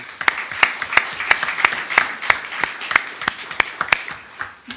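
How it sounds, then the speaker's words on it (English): A small group claps at a commission meeting, sharp distinct handclaps in a quick, slightly uneven rhythm, close and clear with a quiet room behind them. "I would just like to, to recognize them again with a round of applause"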